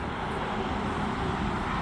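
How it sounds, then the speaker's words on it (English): Steady road traffic noise passing near a garden on a fall day, a continuous broad rumble and hiss with no voices. "Sorry about the road noise."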